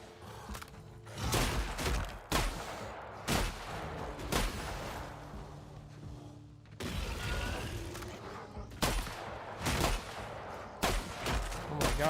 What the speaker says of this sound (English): this shotgun kind of like really sucks